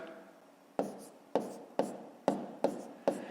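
A pen or chalk taps and scratches in six short, evenly spaced strokes while numbers are written out for a long division problem, close and fairly quiet with no voice.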